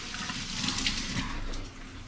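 Water splashes into a hot pan beside frying eggs, a steady hissing rush lasting about two seconds with no talk.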